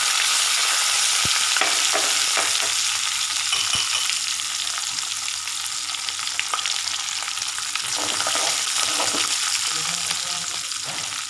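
Dried red chillies, crushed garlic and curry leaves fry in hot oil with a steady, close, continuous sizzle and occasional soft stirring knocks, and no one speaks.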